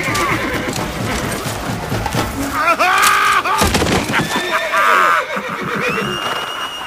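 A horse in a dramatized Polish fantasy audio drama whinnies several times in loud, rising and falling cries over continuous clopping hooves, with a dense background of other effects.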